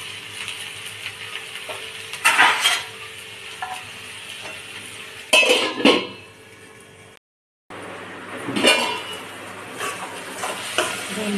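Okra with salt cooks covered over a low gas flame with a soft, steady sizzle. A few sharp clattering bursts of utensil or lid sounds break in, and there is a brief silent gap.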